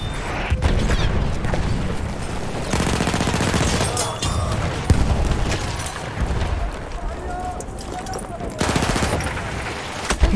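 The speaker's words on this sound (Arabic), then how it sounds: "رشاش إنه للعدو" Bursts of enemy machine-gun fire ring out in Battlefield 1, rapid rattling volleys mixed with heavy booms and explosions, loud and close throughout, with a voice talking over the gunfire.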